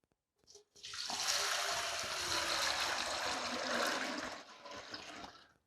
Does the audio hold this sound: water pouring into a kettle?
yes